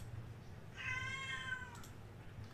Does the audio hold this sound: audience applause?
no